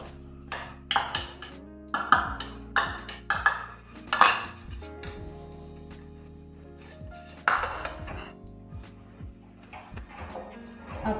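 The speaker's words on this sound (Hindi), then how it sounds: "अब हम इसमें अपना बेसन डालेंगे घी में और इसको अच्छे से मिक्स करते जाएंगे" Metal spoon scraping and clinking against a pan as gram flour (besan) is stirred into ghee for besan laddu, a series of short rhythmic taps and scrapes, close and fairly quiet, with no talking.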